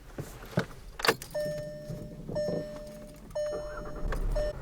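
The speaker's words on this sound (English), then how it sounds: "I'm going to go ahead and start the car up" A 2017 Volkswagen GTI S with a switchblade key cranks and fires up, with a sharp key click first, then the engine catching and settling into a steady idle with repeated electronic chimes.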